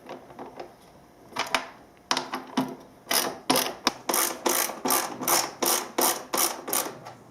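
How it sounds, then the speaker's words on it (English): Ratchet on a 10mm deep socket loosening the exhaust can bolts of a LEXX MXe dirt bike exhaust, close and loud, with faint clicks building into a steady series of sharp repeated ratcheting strokes, no talking. "take a 10mm socket, deep socket so you get clearance, and pull off the can"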